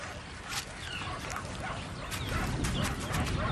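A pack of wild dogs yips and barks in excited bursts during a confrontation with a rival predator out in the wild, the calls rising and overlapping into a busy, fairly loud chorus.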